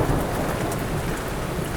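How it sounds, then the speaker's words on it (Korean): Steady downpour of rain falling as a storm breaks in a film scene, a dense continuous hiss with low rumbling underneath, loud and unbroken. "그리고 타노스가 위를 쳐다보자 피의 비가 내리기 시작하는데,"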